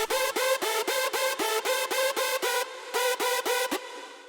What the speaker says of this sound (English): it just gives a nice wet reverb, but it doesn't drown the entire top lead.